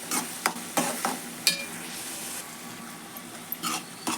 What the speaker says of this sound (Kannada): ನೋಡ್ರಿ ಕುದಿಯಾಕತ್ತೈತಿ